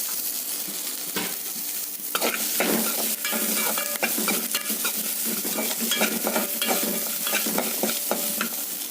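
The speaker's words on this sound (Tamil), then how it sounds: "இப்போ நான் உரித்து வச்சுருக்க வெள்ளைப்பூடு வெங்காயத்தில் கொஞ்சம் எடுத்து இதில் வதக்கிக்கிறேன்." Peeled garlic and onion sauté in a hot pan, giving a dense, steady sizzle broken by scraping stirring strokes. The sound is close and continuous, with no one talking.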